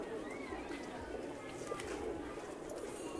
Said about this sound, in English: people come to feed doves and pigeons also in this place